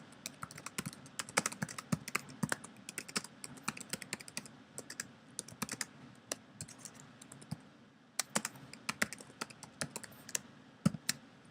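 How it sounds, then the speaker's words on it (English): Quick, light clicks of typing on a computer keyboard run in uneven bursts with short pauses, close and fairly quiet, with no voices. "So I'll go ahead and type that question."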